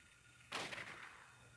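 A single gunshot in the Silent Hill video game: one sharp, fairly quiet burst that fades into a short reverberant tail over a low background hum.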